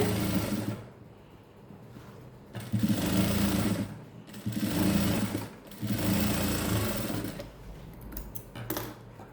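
A sewing machine runs in several bursts as it double-stitches the sleeve of a silk blouse, a steady close whirr that starts and stops about four times.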